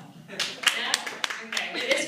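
A brief scattering of claps from a small stand-up comedy audience, irregular and fairly close, mixed with voices and laughter.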